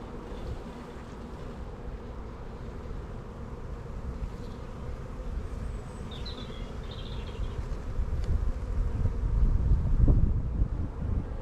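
Honeybees swarm around an opened beehive in a continuous droning buzz, with wind buffeting the microphone and growing louder toward the end, and a few individual bees zipping close by.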